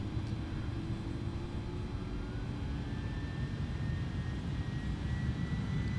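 The jet engines of an Airbus A310 in MSFS 2020 spool up at Heathrow, a steady loud roar with a thin whine that climbs slowly in pitch and no talk.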